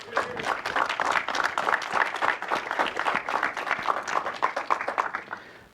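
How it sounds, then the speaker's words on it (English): An audience round of applause at a closing session, with dense steady clapping from many hands that carries on for several seconds before tapering off at the end. "If you would stand for a round of applause, please."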